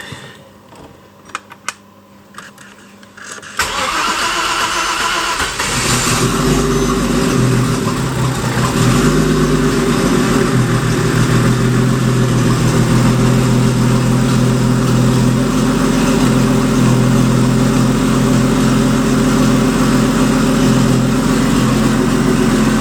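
An Audi S4 with a Porsche Boxster turbo conversion, just fitted with a repaired crank sensor, starts after a few seconds of quiet clicks and then runs with a loud, steady, rough idle that continues to the end.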